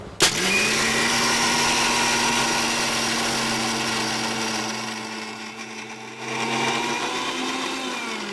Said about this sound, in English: So you put everything together in a blender and you just give it a go.